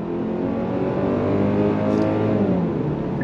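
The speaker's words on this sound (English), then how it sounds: "On throttle, here we go. The 8-speed drops down and we are off." 2023 Kia Sportage X-Pro inline-four under throttle as the 8-speed automatic downshifts, a loud, steady engine drone rising in pitch from inside the cabin, with no talk.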